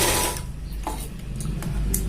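A sewing machine stitches the back pocket of a pair of pants, a close, fast mechanical whirring with short clicks and pauses as the fabric is fed.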